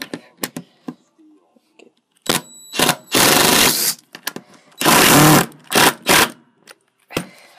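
A DeWalt 20V cordless drill drives a screw until the threads strip, in loud, close bursts of motor whine with short pauses between them and a few quick taps at the start.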